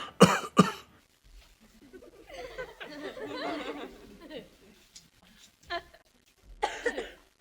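A couple of sharp coughs open the clip, followed by murmuring voices and a few more short coughs and throat sounds.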